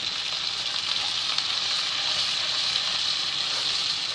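Ground masala paste fries in a pan for egg curry, a steady, even sizzle with a fine crackling hiss, close and continuous with no talk.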